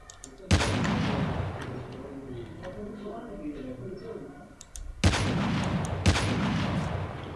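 Gunfire from the mobile game Call of Duty Mobile, with two sharp bursts of shots, one near the start and one near the end, over steady game background noise and someone talking.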